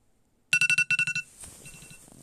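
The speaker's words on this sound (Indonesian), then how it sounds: "Wow, alarm kebunyi." A loud phone alarm bursts out after a moment of silence as a rapid series of bright electronic beeps. A softer jumble of room noise follows.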